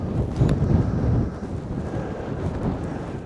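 Steady wind buffeting the microphone on an exposed fell-top hill at Loughrigg Fell, a continuous low rumbling roar with gusts that swell early and then settle into a constant blustery wash.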